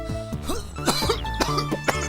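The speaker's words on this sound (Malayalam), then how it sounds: "ഈ ചുമ ഇങ്ങനെ ഉണ്ടെങ്കിൽ ഏതെങ്കിലും നല്ല ഡോക്ടർമാരെ കൊണ്ട് കാണിക്കാൻ പാടില്ലേ?" Someone in a comedy sketch coughs several times in quick, rough bursts, close and loud with no other talk.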